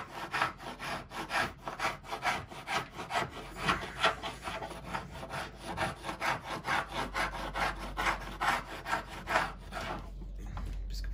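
Repeated rhythmic scraping strokes rasp across a surface as chemically softened paint is stripped off, close and steady, each pass a gritty swish with no talking.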